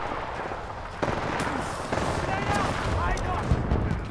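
Titanfall 2 gameplay on a GTX 860m laptop delivers dense, continuous gunfire and rumbling explosions at high volume, with voices talking over the combat.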